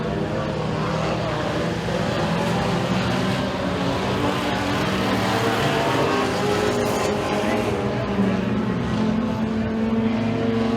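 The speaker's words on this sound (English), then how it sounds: "3 laps in, 3 laps remaining for the 14 of Nicholas Reed." Race cars roaring around a dirt oval speedway at Eriez Speedway during heat races, a steady continuous engine drone from several cars that swells and fades as they circle, heard from trackside with no break.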